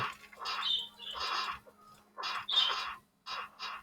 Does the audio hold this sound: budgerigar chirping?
yes